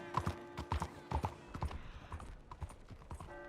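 Rhythmic clip-clop of a horse's hooves in Red Dead Redemption 2 Online, a quick run of close hoofbeats that slows and fades toward the end, with a faint in-game tone in the background.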